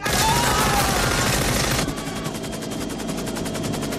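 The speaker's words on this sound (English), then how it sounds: "Gunshots outside the records office." Rapid, loud bursts of gunfire crackle continuously, a dense volley that drops slightly in intensity partway through but keeps rattling.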